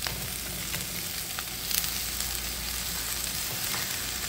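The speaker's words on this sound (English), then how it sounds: "you want to go back in a backward forward motion so the eggs will cook" Eggs fry in a hot pan while being pushed back and forth: a steady, dense sizzle runs throughout, close and fairly loud, with faint scraping strokes from the stirring mixed in.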